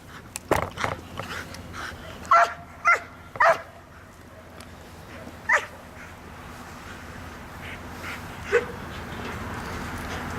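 A young dog barks in sharp, separate bursts during a field test of dogs, the barks spaced irregularly against a steady outdoor background, fairly close and moderately loud.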